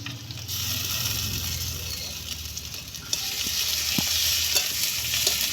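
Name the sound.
frying onion with ginger-garlic and cumin paste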